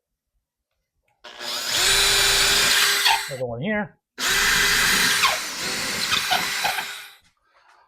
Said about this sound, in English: so now I'll go ahead and drill one hole here.